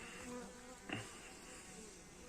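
A low insect drone hums continuously, with buzzing bees flying in close by, some carrying pollen, and a brief louder buzz passing near the middle; quiet overall.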